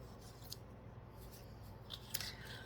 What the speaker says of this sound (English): I'm just going to go ahead and cut right on the lines on these two.